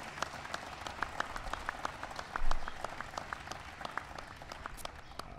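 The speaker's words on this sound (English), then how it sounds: "so give him a big round of applause" Audience applause at a White House event honoring a NASCAR Sprint Cup champion, scattered individual claps standing out over a steady murmur of crowd noise, moderately loud, with a brief swell midway.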